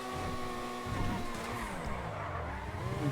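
A car in the game GTA drifts through a corner during a Poznan GP race, its tires squealing in long rising and falling streaks over a steady engine drone, loud and close, with no voices.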